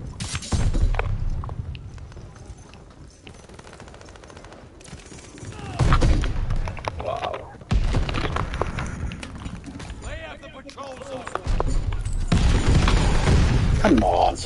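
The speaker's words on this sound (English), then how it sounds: "I chucked the fucking flashbang at him" A flashbang grenade goes off in Call of Duty: Vanguard amid steady gunfire, with loud broadband bursts repeating through a busy online match while players talk over it.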